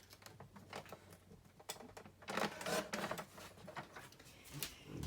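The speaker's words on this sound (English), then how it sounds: "I'm going to trim this just a tiny bit on my trimmer." A paper trimmer slices through cardstock in a few quiet scraping and clicking strokes, close up, soft and intermittent against a hushed room.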